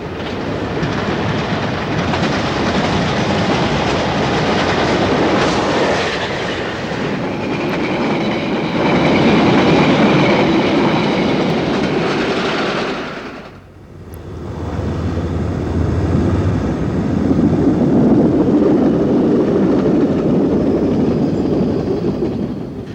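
A London Underground train rumbles past on the rails with a rhythmic clatter, fades briefly, then another heavy roar of cars rolls by.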